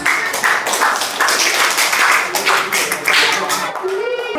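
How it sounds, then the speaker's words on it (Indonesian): Audience clapping at a children's preaching competition in a mosque, a steady patter of many hands for about four seconds with some voices mixed in, loud and fairly close throughout. "Beri tepuk tangan untuk semuanya."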